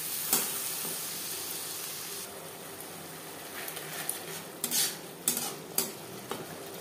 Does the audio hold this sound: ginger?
yes